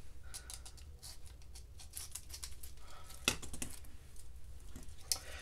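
Scissors snip through sticky washi tape during paper card crafting: quiet, close cuts and light crinkles, with a couple of sharper snips standing out.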